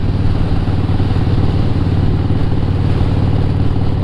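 A motorcycle engine rumbles steadily at close range, a deep, continuous throb with a faint mechanical clatter and no change in pace.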